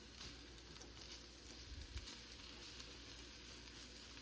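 Peppers frying in a pan for breakfast give off a faint, steady sizzle with light crackling pops throughout, heard quietly and up close with no voices.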